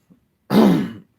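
A single close, rough throat clearing that breaks into a short cough, lasting about half a second, with silence on either side.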